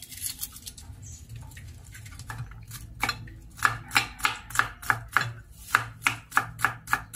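A knife chops garlic on a cutting board: a quiet start, then about a dozen crisp, evenly spaced blade strikes in a steady rhythm, close and fairly loud.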